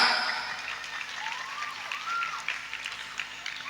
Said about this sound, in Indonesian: Gitu Mas BI, tepuk tangan